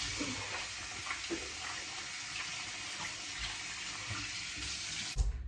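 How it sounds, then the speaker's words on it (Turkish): Water running steadily from a tap into a sink while a face is rinsed, with faint splashes in the stream and a brief louder knock near the end. "Tamam şimdi duruluyorum."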